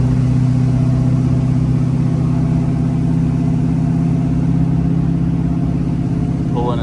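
A lifted truck on 38-inch tires with a big drop hitch labors up a small incline, its engine a loud, steady low drone with a rising tone near the end, heard from inside the cab.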